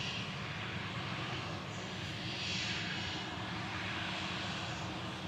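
A Finnair Embraer E190 jet departs Manchester Airport for Helsinki, a continuous, fairly faint engine roar and hiss heard from a distance with a slight swell partway through.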